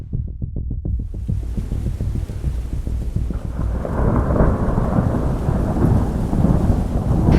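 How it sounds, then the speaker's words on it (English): A pop-up thunderstorm at the beach, with a rolling, rumbling thunder that pulses at first and then settles into a dense, loud roar of heavy rain, continuous and close. "right now we are getting hit with a thunderstorm"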